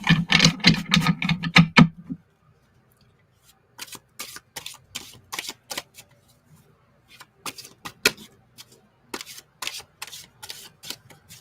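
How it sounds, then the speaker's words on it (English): Tarot deck shuffled by hand, with a dense burst of riffling cards first and then sparse, crisp card slaps and taps at close range, with no talking. "let me just quickly shuffle this deck as well."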